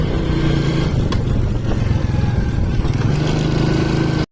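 A motorcycle carries riders along a rural road toward a river, its engine a close, steady buzzing drone with slight throttle changes, cutting off abruptly at the end.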